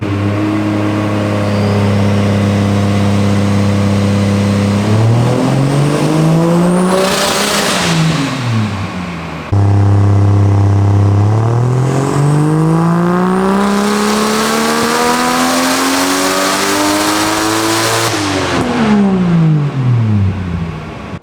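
A 600 whp BMW E60 on a dyno during pull runs, its engine rising in pitch through two long climbs to a loud high rev before dropping back, close and dominant.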